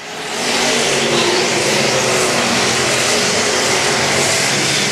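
Street stock race cars roar loudly past on the first lap of a 15-lap main event at a dirt oval, the engine noise swelling in and holding as a dense, continuous close rumble.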